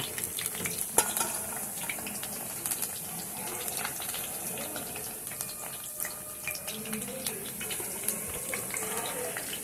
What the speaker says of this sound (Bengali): দেখুন, বেবিকর্নগুলো এরকম অল্প আমি আগে ভেজে তুলে রেখে দেব।